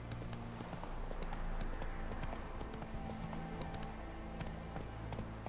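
Roach the horse's hoofbeats in The Witcher 3: a steady, continuous clip-clop at a trotting rhythm over a dense bed of in-game ambience, with no talk.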